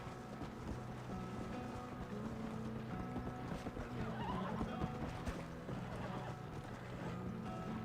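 A horse in the Red Dead Redemption video game, with hoof clip-clops and a whinny mixed into busy game sound and music at a moderate, steady level.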